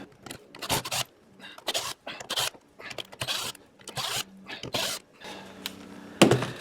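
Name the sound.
unscrewing Torx bolts on a Toro lawnmower transmission cover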